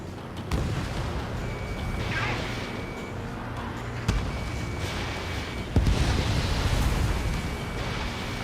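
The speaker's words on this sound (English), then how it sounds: "The harbor is under heavy fire!" Explosions and heavy fire pounding a harbor in Ace Combat 7, with a few sharp distant booms rising out of a steady roaring wash of battle noise.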